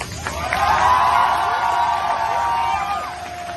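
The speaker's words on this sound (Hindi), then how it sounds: "एक बार जरा इंडियन एयरफोर्स के लिए जोर से ताली बजे।" A large crowd clapping and cheering for the Indian Air Force, loud whoops and shouts swelling early and sustained throughout, many voices yelling together over the applause.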